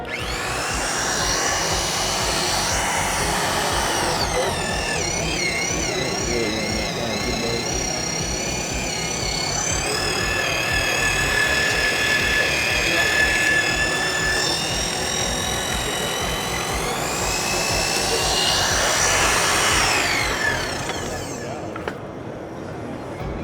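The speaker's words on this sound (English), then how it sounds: "So we'll run the planer first." An Aquatherm butt fusion planer faces plastic pipe ends, giving a loud, steady whirring drone with shifting tonal whine that holds for about twenty seconds before easing off, with no talk over it.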